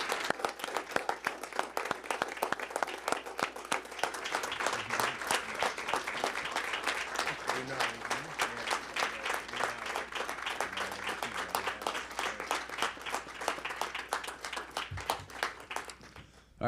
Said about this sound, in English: Will everybody please rise up and help applaud Clarence for his dedicated years of service.